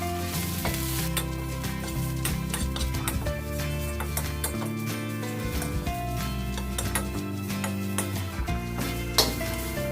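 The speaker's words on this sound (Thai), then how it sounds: "เครื่องแกงลงไปผัดให้หอมเลยนะครับ" Chili curry paste stir-frying in a little oil for a dry-fried beef dish, a loud, steady sizzle with scraping stirs, close and continuous throughout with no talking.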